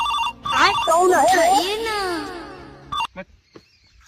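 A mobile phone rings with a chirpy, warbling ringtone melody for about three seconds, loud and close, before a few short knocks and handling sounds as it stops.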